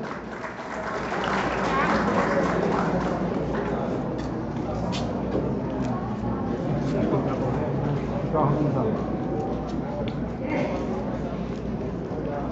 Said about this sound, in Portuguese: uma salva de palmas mais uma vez